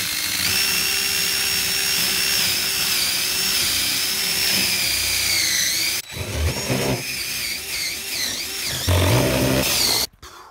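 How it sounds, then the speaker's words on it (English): A loud, steady whine of a power drill running continuously, then shifting pitch and chattering as it bites into a soaking-wet, soft boat transom, stopping abruptly near the end. "We are going to go drill some holes for the resin to soak into."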